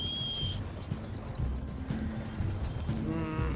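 Horse hooves clip-clopping in Red Dead Redemption 2, steady rhythmic hoofbeats close by with a brief whinny at the start, under ambient game sound.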